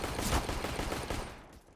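Pistol gunfire in a Counter-Strike match, a quick run of close, loud shots that fades toward the end, with no talk over it.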